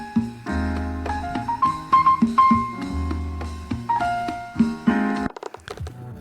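A jazz recording plays alone, with warm piano chords, a walking bass line and a melodic lead weaving over a steady groove.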